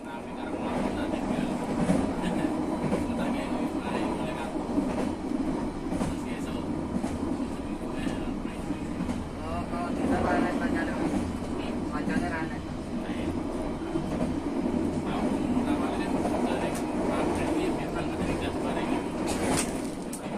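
Steady rumble and rattle inside the Bengawan passenger train as it runs along the rails, a continuous rolling drone with clacks, and people talking faintly in the carriage.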